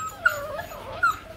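Forty-eight-day-old Rottweiler puppies whimper close by, giving two thin, high whines separated by a short pause over quiet background noise.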